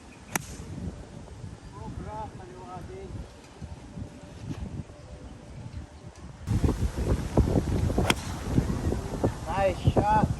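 Strong wind gusts across an open golf course, buffeting the microphone in rough bursts that grow louder in the second half, while several players talk over it.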